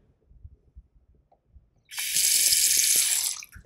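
A hotel bathroom faucet turns on after faint handling noises and runs into the sink as a steady, close rush of water for about two seconds.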